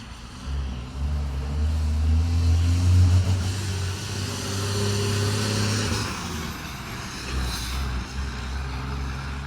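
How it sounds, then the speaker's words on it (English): A truck idles close by with a heavy, rumbling engine and strong exhaust, its low drone steady and loud for most of the stretch before easing slightly, heard on a Saturday walk. "That is so much exhaust in this truck right here."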